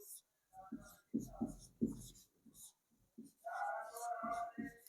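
A heading is handwritten on a surface, with short scratchy pen or chalk strokes in quick bursts. The writing is heard up close, interleaved with quiet talking.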